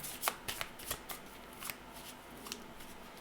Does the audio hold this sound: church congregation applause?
no